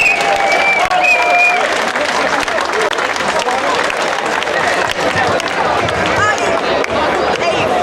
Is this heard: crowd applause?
yes